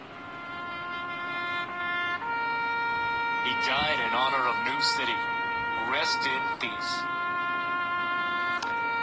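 A losing 'out' tone in an Android audio game sounds as a loud electronic siren-like cue with sustained pitched tones and warbling sweeps, heard alone for several seconds.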